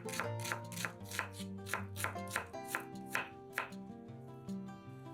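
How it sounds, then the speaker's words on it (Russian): A knife dices a small onion into fine cubes on a cutting board, giving a steady run of crisp, evenly spaced chops close by over soft background music. "Одну небольшую луковицу нарезаем маленькими кубиками."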